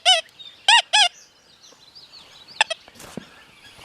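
Three loud electronic warbling tones from a Deus 2 metal detector with an 11-inch coil in pinpoint mode come first, then quieter chirps and faint rustling follow, all near and without speech.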